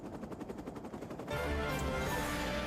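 A sniper rifle shot fires in Final Fantasy XIV: Stormblood during a fight with Magitech soldiers. A rapid pulsing patter gives way to one sudden loud report, followed by a dense, sustained roar of battle noise.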